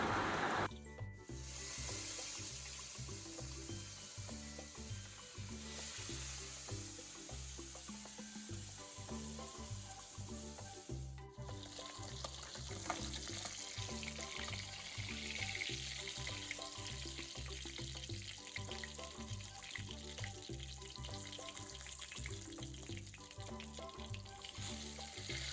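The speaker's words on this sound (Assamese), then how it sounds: "সেইখিনি তেলতে যিখিনি মাছ আছিলে মাছখিনি ভাজি লব" Fish fries in leftover oil in a home kitchen pan, a soft continuous sizzle with low rhythmic bubbling, faint and steady throughout with no talk.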